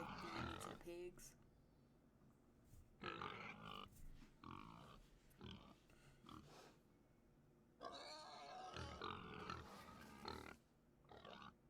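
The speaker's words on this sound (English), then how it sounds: "I do hear the pigs in the background" Pigs grunt and snort in the video game Adios, rough bursts of grunting that come and go under a man's speech, fairly faint and intermittent.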